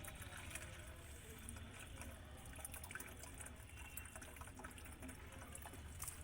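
Water runs steadily from a tap into a 2-litre bottle, a faint continuous splashing and trickling with no voices.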